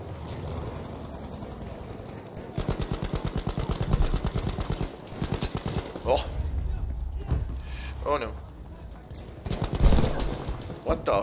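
Rapid automatic gunfire in Battlefield 5 comes in bursts, with a long rattling volley in the middle followed by scattered single shots and blasts, while players talk over the action in Danish.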